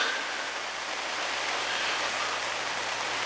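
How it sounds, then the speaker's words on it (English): Rain falls steadily outdoors at a carp fishing lake, a soft, even hiss of broadband noise with no distinct drops or voices. "Oh, well, it's raining again."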